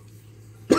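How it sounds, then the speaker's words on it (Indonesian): A single short, sharp cough bursts out near the end after a low, steady background hum, a brief throaty sound close to the microphone. "Lu batuk lagi."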